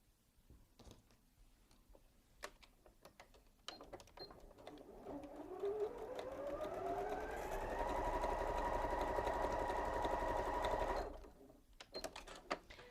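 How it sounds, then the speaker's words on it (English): A sewing machine stitches quilt pieces in one long continuous run, its motor winding up in pitch and holding steady before stopping abruptly, fairly close and alone with soft handling noises around it. "sew the other one on the other side"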